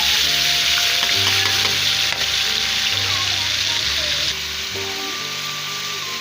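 Steady, loud sizzling of garlic and ginger frying in hot oil, close by, with a constant hiss and some faint stirring clatter.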